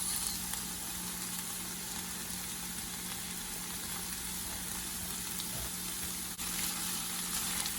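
Diced potatoes for a ground turkey burrito filling fry in a pan with a steady, even sizzle and hiss, continuous and fairly close, under a constant low hum.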